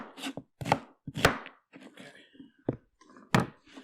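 Onions being chopped with a knife for a curry base gravy, several sharp, irregular close-up chops on a board separated by brief pauses, with no talking.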